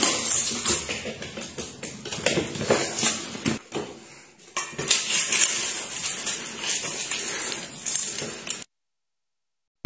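Dishes and cutlery clinking as food is handled, a busy jumble of metallic chinks and taps at moderate level, ending abruptly in silence.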